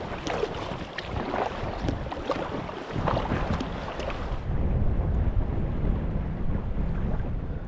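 A paddle strokes through the water of a Scottish loch on a windy, rainy solo trip, rough splashing and dull thumps buried under heavy wind buffeting on the microphone, continuous and close.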